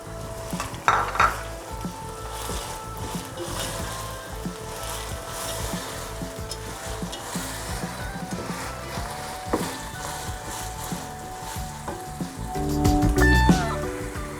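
Whole cumin, black peppercorns and a handful of whole dried chilies hit hot oil for a Pakistani keema, a continuous close sizzle mixed with stirring scrapes and pan clatter, louder bursts near the end.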